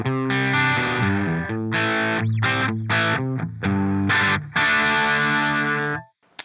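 Electric guitar through a Friedman Pink Taco amp sim, miked very close to the center of the cone, gives harsh, abrasive distorted chords and riffs played loud and alone, ending with a sudden cut.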